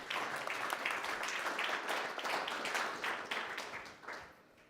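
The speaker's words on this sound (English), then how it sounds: "we can give you a round of applause" A room full of people applauds the Deputy Prime Minister at a security conference town hall, brisk dense clapping that holds steady and then tapers off at the end, with no voices over it.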